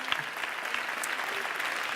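An audience applauds a doctoral student in civil engineering at a French science-communication final for regional thesis presentations. The clapping is steady, dense and sustained, moderately loud, with no voices over it.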